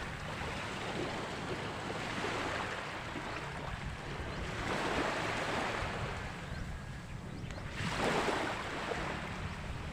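Sea waves wash ashore at the seaside in a steady broad roar, swelling and falling in slow surges with gusts of wind across the microphone.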